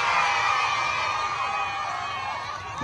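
A large rally crowd cheers and shouts continuously, a dense sustained roar of voices at close range with no pauses.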